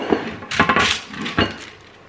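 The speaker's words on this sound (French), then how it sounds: "Ensuite je vais prendre directement ma plaque qui va aller au four." A metal baking tray is picked up for the oven, clattering and clinking in two or three short, close metallic knocks before settling quietly.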